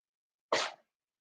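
A single sharp sneeze bursts out of silence, close and loud, lasting only a moment before quiet returns.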